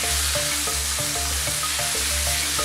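Chicken pounded flat and seasoned with spices frying in a pan, giving a steady close sizzle with periodic bursts and pops throughout, no talking.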